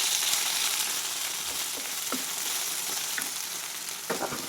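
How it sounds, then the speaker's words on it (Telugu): Sliced okra fries in hot oil with a steady, close sizzle and a few faint scrapes of stirring, no voices. "ఇవి ఇప్పుడు ఆయిల్ పెట్టుకుని దీంట్లో ఇలాగ సగం ఫ్రై అయిన తర్వాత"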